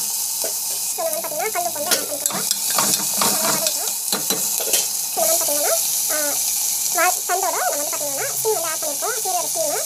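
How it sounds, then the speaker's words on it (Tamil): Cumin, onion and tomato sauté in a pan with steady sizzling and frying, mixed with stirring and scraping, while a voice talks over it throughout. "டொமேட்டோ வந்து ஆட் பண்ணலாம். நல்லா வந்து வதக்கிக்கோங்க."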